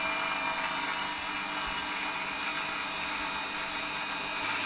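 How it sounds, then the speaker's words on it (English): A stand mixer whisks ingredients for a mango tiramisu dessert, a constant loud motor whine with a hissing whirr that runs steadily throughout, with no voice over it. "Now while I'm using a stand mixer, it makes things so much more easier."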